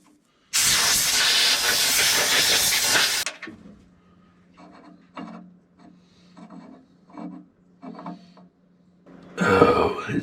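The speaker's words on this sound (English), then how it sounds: "I'm going to take a air compressor and quick blow around the stuff off around this before I let it in" An air compressor nozzle blowing debris off loader brakes: a loud, harsh burst of rushing air lasting about three seconds, followed by faint clanks and shuffling, then another short blast at the end.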